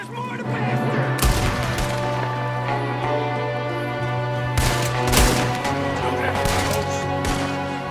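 Pistol gunshots ring out in the Western action game Red Dead Redemption II: several sharp, loud cracks at irregular intervals over a steady musical score and game ambience, with people talking at times.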